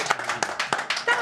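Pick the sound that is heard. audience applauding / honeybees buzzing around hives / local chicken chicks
audience applauding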